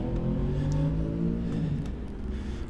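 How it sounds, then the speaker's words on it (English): Motorcycles riding past outside make a rumbling engine drone at moderate distance that holds steady and then eases slightly as it fades. "Oh, nice sound of bikes out today"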